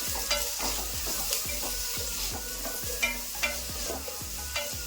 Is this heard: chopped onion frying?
yes